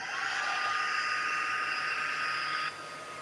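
A heat tool blows a steady, loud whooshing hum while warming light moulding paste at a crafting bench, then cuts off near the end, leaving quieter room noise.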